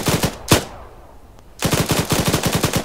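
Automatic gunfire in the ArmA 3 game: a short burst, a lone loud shot, a brief lull, then a longer sustained burst of rapid, loud shots.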